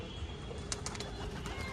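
Pigeons flutter and coo softly in flight, faint wingbeats and brief calls over a steady outdoor background.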